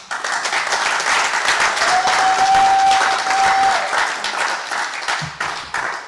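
Sustained crowd applause at a closing ceremony in a national museum, dense and steady throughout with a faint held tone in the middle, no talking over it.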